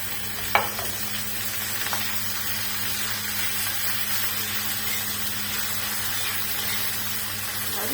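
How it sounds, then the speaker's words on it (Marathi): Onions frying in a pan with curry leaves and tomato for a Marathi pithla, a steady close sizzle running throughout with a few sharp clinks of a spoon against the pan near the start. "आता कांदा आपला छान तळला तर कडीपत्ता टाकून घ्यायचा टमाटर टाकायचं"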